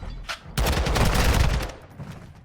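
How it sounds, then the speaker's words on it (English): Assault rifle fire in a competitive video game match: a loud, sustained burst of rapid automatic gunshots lasting about a second, preceded by a brief single shot and trailing into quieter distant fire. "Mizzy does pull out the AR."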